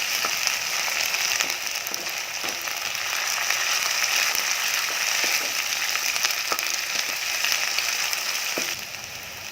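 Onions with ginger-garlic paste fry in a pan as cauliflower curry is made, giving a steady close sizzle with faint scraping stirs, easing slightly in the final seconds.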